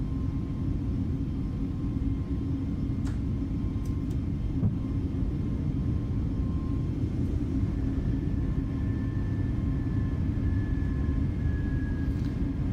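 A steady, loud jet-engine rumble from an FBW A320neo climbing after a go-around in Microsoft Flight Simulator. The drone holds unbroken throughout, with a faint high tone running over it.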